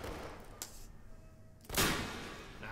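Pistol shots in the Wild West setting of the VR game Hot Dogs, Horseshoes & Hand Grenades: a lighter crack early on, then one loud, sharp report that trails into a lingering echo.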